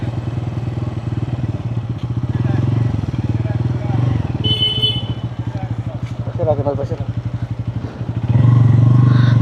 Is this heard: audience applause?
no